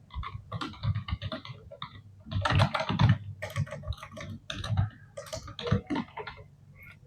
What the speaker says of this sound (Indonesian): Lembar persetujuan dan pengesahan, deskripsi kita ketikkan.